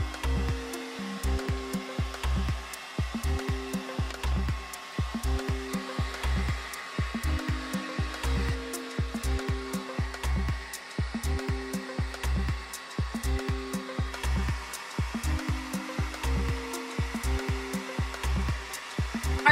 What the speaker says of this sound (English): so I'm all done blow drying my hair